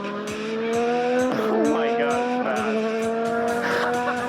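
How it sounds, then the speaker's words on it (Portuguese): A Formula 1 car races past while an FPV drone chases it. A loud, high-pitched engine whine holds steady, then swoops sharply in pitch as the car passes, with a steady motor drone running underneath throughout. "assistindo esse vídeo do Johnny FPV, onde ele bem que tentou, mas viu que era impossível perseguir um carro de Fórmula 1"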